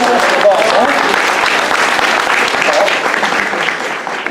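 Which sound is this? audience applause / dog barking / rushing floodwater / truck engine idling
audience applause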